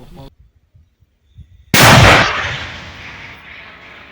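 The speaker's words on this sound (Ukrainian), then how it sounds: "Перший постріл хлопця зазвичай пристрілочний" A single loud, booming shot from a Ukrainian artillery gun, a ranging shot, after near silence, with a heavy blast that rolls out into a long fading rumble.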